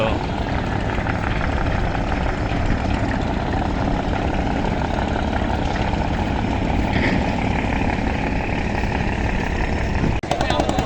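A steady launch boat engine drone rumbles continuously as it docks at Sadarghat river ghat in Dhaka, with wind and faint voices mixed in, and a brief thump near the end.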